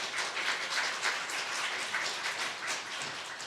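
Steady applause from a church congregation fills the room at a moderate, even level, a dense wash of many hands clapping without pause and with no voices on top.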